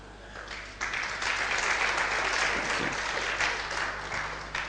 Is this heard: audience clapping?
yes